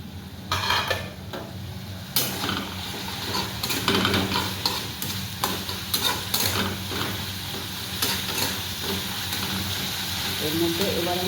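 Onions frying in a pan, a continuous sizzle with scraping and stirring clatter, a few sharper knocks, and a voice speaking over part of it.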